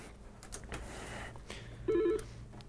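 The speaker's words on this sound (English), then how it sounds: "Phone call." A telephone rings with an incoming call at a logic board repair shop, a short warbling electronic ring tone sounding once over background room noise and faint activity.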